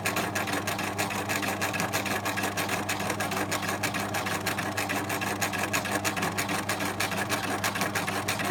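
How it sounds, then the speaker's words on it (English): Sewing machine stitching a seam on a fabric pencil case, a steady rapid mechanical whir with a fast even ticking rhythm, close and continuous throughout. "So sew very slowly while you're doing this."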